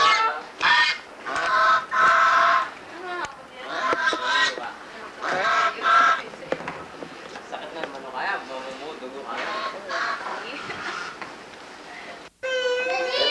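Chickens clucking and squawking close by, mixed with people talking over the birds.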